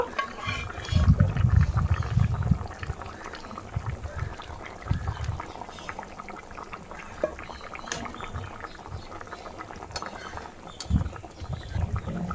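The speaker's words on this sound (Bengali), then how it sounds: "এবার এতে আমি মাছগুলো দিয়ে দেব" Hilsa fish pieces go into a pot of curry boiling on a medium flame, giving low bursts of splashing and bubbling at the start and again near the end, with steady simmering and a few light clinks in between.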